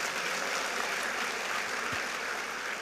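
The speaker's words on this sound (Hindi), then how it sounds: "थोड़ा ताली बजाएं" An audience claps, a dense, continuous wash of applause held at an even level throughout.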